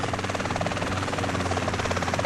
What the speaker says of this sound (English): we're going to be riding this helicopter straight to Toreno's base in Las Brujas.